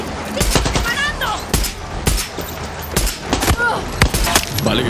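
Gunfire in Far Cry 6 cracks out in sharp, irregular shots and short bursts, loud and close, mixed with chaotic battle noise and shouting voices.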